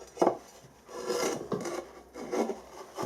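A hole saw cutting a copper workpiece at very slow speed, giving a rasping, grinding scrape in uneven strokes, close and fairly loud, with no voices.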